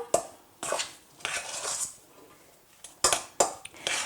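Potato filling with green onion being stirred in a bowl, a spoon clinking and scraping against the sides in several short, fairly close bursts with brief pauses between them.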